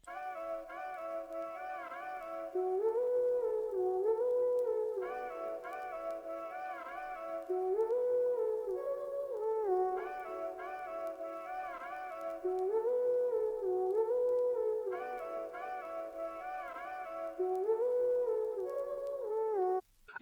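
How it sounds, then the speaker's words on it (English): Sampled vocal loop from the Hooked pack in Arcade inside FL Studio, a soft wordless melodic phrase repeating about every two and a half seconds, quiet and even throughout. "found a particular vocal loop that I liked from, I think it's the Hooked pack"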